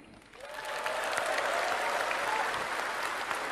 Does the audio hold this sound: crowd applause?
yes